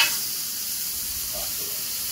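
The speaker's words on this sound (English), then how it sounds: "I have my cast iron pan in there preheated at 500 degrees. So we're going to go ahead and toss this in." A steak sears in a cast iron pan preheated to 500 degrees, giving a loud, dense, continuous sizzle that starts sharply and holds steady.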